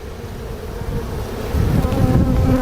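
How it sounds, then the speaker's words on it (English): Honey bees buzz steadily at an open hive full of colonies and drones, a dense droning hum that holds throughout and swells a little louder in the second half. "We have a lot of bees and a lot of colonies drones still"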